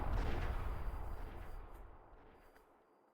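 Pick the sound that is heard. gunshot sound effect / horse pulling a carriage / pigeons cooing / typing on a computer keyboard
gunshot sound effect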